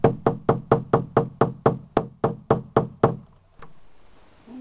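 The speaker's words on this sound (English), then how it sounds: "If I have a chisel or my little mallet. Make the outline." A small mallet strikes a chisel cutting an outline into wood for a chicken coop build, a dozen sharp, evenly spaced knocks followed by a pause and one final tap, close and clear.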